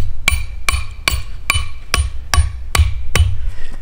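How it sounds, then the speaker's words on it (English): A hammer drives a metal stake for a raccoon trap into the ground outdoors, with seven sharp, evenly spaced blows, each a loud ringing strike over a low rumble. "Take your stake, put it through this swivel, push it in the ground as far as you can. Take your hammer,"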